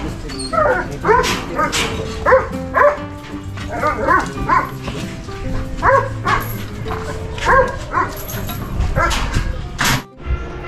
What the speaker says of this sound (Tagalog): yung ating alagang aso ay excited na kumain